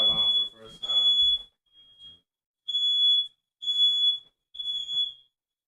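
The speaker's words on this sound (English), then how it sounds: "I set off the fire alarm for the first time." A smoke alarm set off by soldering smoke while working on an Xbox sounds a run of loud, piercing high beeps. Talk covers the first one, then the beeps come alone in spaced bursts.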